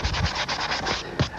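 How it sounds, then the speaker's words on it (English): Sandpaper wrapped around a dowel rubs along the inside curve of a template edge in quick, rhythmic back-and-forth strokes, close and clear with no talking. "To get a nice smooth finish on inside curves like this, wrap some sandpaper around a dowel."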